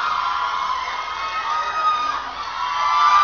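A crowd cheers as the Korean pop star Jang Geun Suk appears at a fan event, a sustained wash of high-pitched screams and shouts that swells toward the end.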